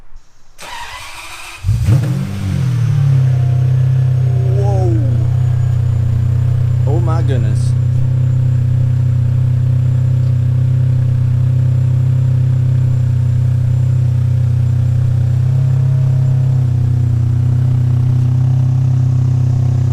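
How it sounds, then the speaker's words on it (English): A 1996 Ferrari 550 Maranello V12 fires up from cold with a sharp crank and catch, then settles into a loud, steady, deep rumbling idle with a couple of brief revs early on; a person exclaims over it. "Cold start, 1996, 550 Maranello."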